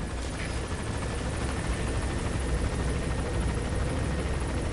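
A helicopter in the video game Metal Gear Solid V: The Phantom Pain drones steadily, its rotor thrum and engine whine loud and continuous throughout, with no one talking.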